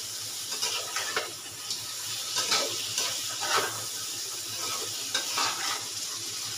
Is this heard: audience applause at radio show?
no